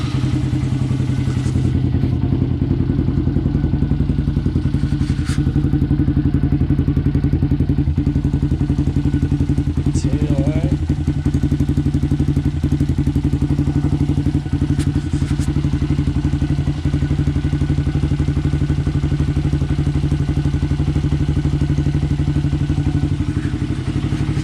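A 2022 Honda Grom motorcycle engine runs steadily close by, a low throbbing idle with a few light clatters and thumps over it, holding constant throughout.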